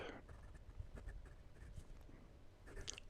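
A Gravitas Quark Up fountain pen with a fine size 6 steel nib scratches softly across Clairefontaine 90 gsm paper in quiet, continuous strokes, close up and faint, with no talking.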